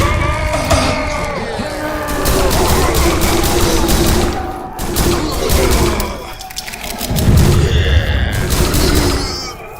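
Rapid, loud gunfire from the video game Prison Simulator, with dense bursts and booms continuing throughout, sometimes close together like a fusillade.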